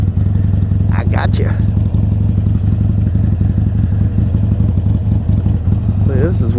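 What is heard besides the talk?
motorcycle engine running while riding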